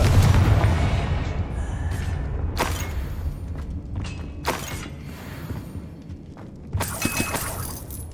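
A fiery Confringo spell blast in the video game Hogwarts Legacy, heard as several loud booming, shattering bursts over a low rumbling game soundscape, with sharp crashes recurring near the start, middle and end.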